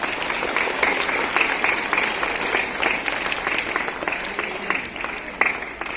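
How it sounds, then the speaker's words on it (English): Dense, sustained applause from a school audience honouring a fifth-grade student, a full steady wash of many hands clapping at once throughout. "Give a big hand of applause to her."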